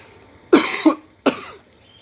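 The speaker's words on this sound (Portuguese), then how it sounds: "É uma tosse que está me acompanhando um pouquinho" A person with a lingering cough coughs twice, close and loud: a harsh burst with a short catch, then a second shorter cough after a brief pause, in an otherwise quiet room.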